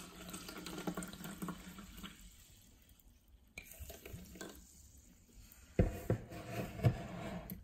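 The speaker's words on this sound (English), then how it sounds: "Let's pour some water in." Sole sparkling mineral water trickles and pours into a pH test cup, with faint clinks and a couple of sharper knocks near the end; quiet and close, no voices.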